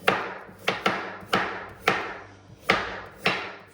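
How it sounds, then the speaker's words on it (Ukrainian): A knife chops onion into half-rings on a cutting board, about seven firm, hollow thuds at an irregular, unhurried pace, close and clear, with no talking. "нарізаємо нашу цибульку можна не тонкими"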